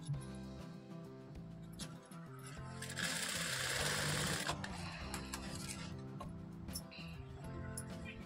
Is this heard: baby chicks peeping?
no